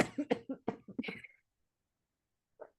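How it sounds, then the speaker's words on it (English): A rapid burst of several coughs close to the microphone, followed by silence and one small final cough. "I'm going to cough."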